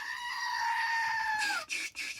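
A goat lets out one long, loud, wailing scream that bends downward at the end, followed by two short, rough bleats.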